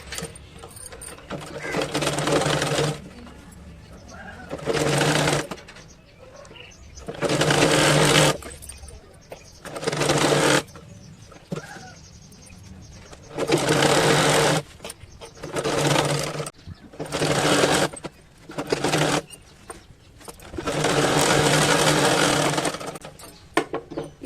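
A sewing machine stitches a gents' shoulderless school-uniform shirt, running in about ten loud bursts of one to three seconds each, separated by short quiet pauses.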